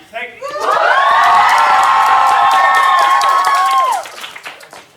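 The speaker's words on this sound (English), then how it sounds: "Cheering." Convention panel audience cheering loudly, with whoops and shouts over scattered clapping, swelling quickly and holding steady for about four seconds before fading out.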